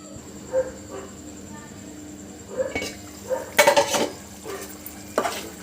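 A spoon scrapes and clatters in a pot of chicken fry in a home kitchen, giving several short, separate scraping strokes over a faint sizzle, with brief voice sounds.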